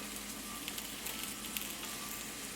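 Taro root paratha fries in oil on a flat pan with a faint, even sizzle and a few light crackles scattered through it.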